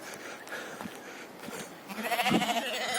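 Sheep bleat close by on a Carpathian mountain pasture in Ukraine, a wavering cry rising near the end over rustling and outdoor background noise.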